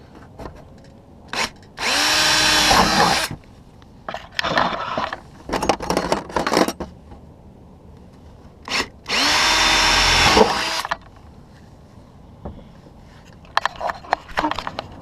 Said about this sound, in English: And we're just going to go ahead and drill our holes.